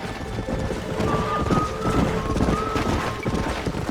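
Horse hooves clip-clopping in the Western video game Red Dead Redemption, a busy, steady patter of several hoofbeats at close range, mixed with harness jingles and faint background game sounds.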